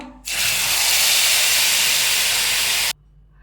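Ground masala paste hits hot oil with popped mustard seeds for curry leaf kuzhambu, setting off a sudden loud, steady sizzling hiss that lasts about two and a half seconds and then cuts off sharply.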